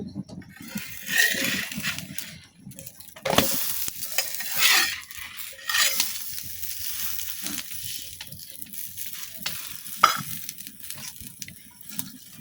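A spiced pitha wrapped in banana leaf is flipped in a pan, with soft scraping, rustling leaf and light sizzle, plus a few sharper clatters of utensil against the pan, fairly quiet and close.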